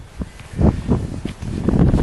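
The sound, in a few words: wind blowing outdoors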